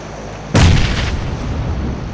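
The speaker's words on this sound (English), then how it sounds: "So I'm gonna use a flash grenade to try to distract him" A flash grenade detonates in PUBG, a single sharp loud bang followed by a ringing, decaying wash of noise, with no voices.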